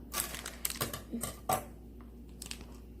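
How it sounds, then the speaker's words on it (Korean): Close, quiet scissor snips on a candy necklace come as a run of sharp clicks in quick succession, then fade to a few softer taps near the end, with no talk. "그럼 이거를 가위로 싹둑 해보도록 하겠습니다"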